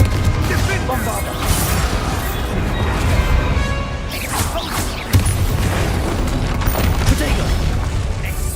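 Bombarda spell explosions boom and crash in the Hogwarts Legacy video game, mixed with heavy impacts and clattering in a loud, dense combat soundscape.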